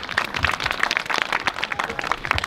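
A crowd at a parish fair applauding to welcome the mayor, a dense, even burst of clapping for a couple of seconds at moderate distance.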